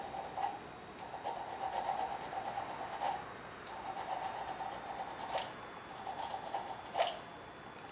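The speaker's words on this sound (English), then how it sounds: "just run that file across the top of it" A metal file scraping across the top of an oxygen-acetylene welding tip during cleaning, heard as a series of short, close rasping strokes in an uneven rhythm against a quiet background.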